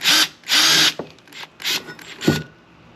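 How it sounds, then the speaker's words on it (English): A power drill whirs in short bursts, two longer whines then a few brief stuttering pulses with mechanical clicks, as it marks a hole for a seat pedestal on a DIY pontoon kayak, close by with no speech. "And then I'm going to take the drill"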